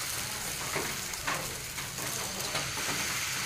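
Thin gula roti batter fries in hot oil in a wok, giving a steady, soft sizzling hiss with faint crackles and no talking.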